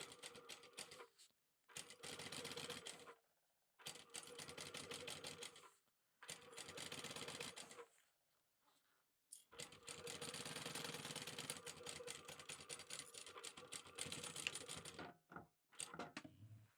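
Sewing machine running a long basting stitch along a sling seam in several bursts, a rapid close mechanical chatter that stops and starts with short quiet gaps between runs.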